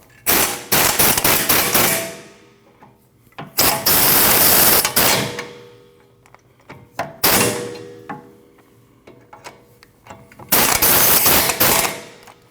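Rear trailing arm bolts on a 2013–2019 Ford Escape are run down with a power impact tool. Loud rattling bursts of hammering come in four separate runs of about one to two seconds each, with quiet gaps between them.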